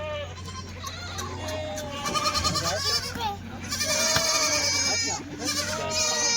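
Goats in a shed bleat repeatedly and overlap one another, loud and close, over a constant low mechanical hum.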